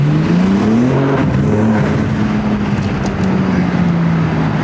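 A 2022 BMW M4 engine idles and revs steadily with a deep droning exhaust note, continuous and close throughout.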